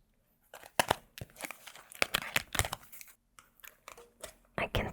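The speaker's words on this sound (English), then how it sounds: "I'm enjoying clacking these nails." Fingernails clack and tap on a perfume bottle in irregular bursts of sharp, close clicks, with faint rustling between them.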